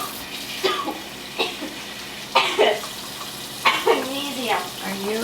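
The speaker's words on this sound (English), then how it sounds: "you always want to rinse with cold water, not hot water" Cold water runs over freshly harvested American Guinea Hog meat in short splashing bursts as it is rinsed, with pauses between, over a low steady background hum.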